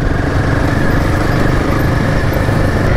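A Royal Enfield Himalayan motorcycle engine revs hard on an off-road trail while the bike runs in fourth gear. The roar is close, loud and continuous through the whole short stretch.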